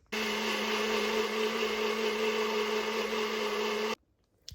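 A small blender whirs steadily and loudly for about four seconds, mixing matcha with vanilla syrup and soy milk, then stops abruptly, leaving near silence and a faint clunk.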